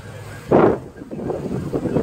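Single loud gunshot-like bang rings out at a white AT&T bucket truck in a residential neighborhood, followed by fainter rumbling and background noise.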